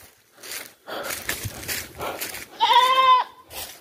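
A goat on a banana farm gives one clear, loud bleat near the end, after a run of rustling and shuffling sounds nearby.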